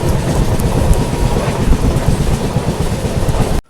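A train runs along a railway line near Aliyavada on the Hadmatiya–Kanalus double-line route, its steady loud rumble and wheel clatter filling the whole stretch before cutting off abruptly at the end.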